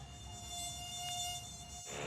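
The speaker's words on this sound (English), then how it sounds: "I can't deal with these mosquitoes. They're eating me alive" A steady, high-pitched insect whine hums close by, continuous mosquito buzzing over a low background rumble for about two seconds, outdoors in Australia.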